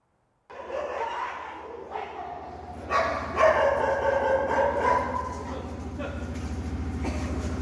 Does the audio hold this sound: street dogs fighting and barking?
yes